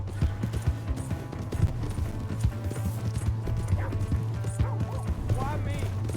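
Galloping horse hooves in Red Dead Redemption 2, a fast, steady drumming of clip-clop beats up close under game music, with a horse whinnying and voices talking over the ride.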